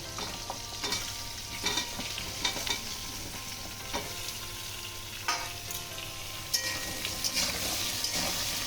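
Ridge gourd, eggplant, pumpkin and potato fry in spiced oil for Malabar spinach chechra, a loud continuous sizzle broken by regular spatula scrapes and knocks against the pan.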